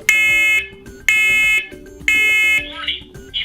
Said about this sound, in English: When an alarm is triggered, you'll hear a loud 85 decibel chirp and voice to alert you.